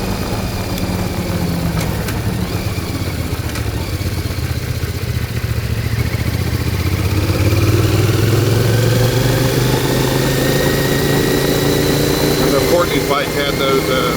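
A CFMOTO Ibex 450 motorcycle running with an ECU tune rumbles steadily and loudly up close, its engine note climbing noticeably partway through over constant wind-like noise.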